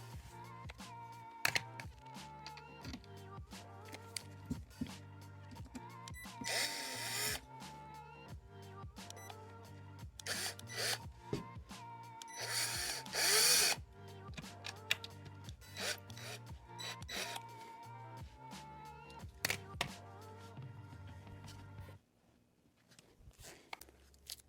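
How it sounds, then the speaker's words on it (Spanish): Screws 4 cm long are being driven by a power drill into the panels of a wooden shoe cabinet during assembly. Several short whirring bursts are heard, close and fairly quiet, with scraping and handling noises in between. "Recomiendo que a tu taladro le bajes el nivel para que de esa manera no vayas a despostillar tu mueble"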